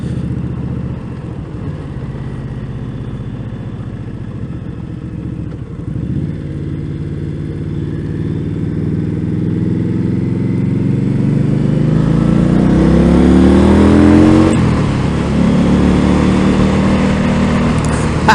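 An Indian Scout motorcycle accelerates at highway speed, its engine note swelling and climbing through the revs with a gear change partway, wind rush building alongside, loud and close.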